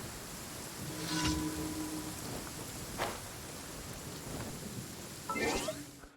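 Steady rain pours in the video game Genshin Impact, a soft continuous hiss with a few brief brighter splashes, faint and even throughout without talk.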